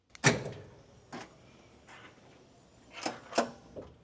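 Police car rapid-access weapons locker drawer sliding open, a few metallic clacks and rattling knocks spaced over several seconds, close and fairly quiet with no talking.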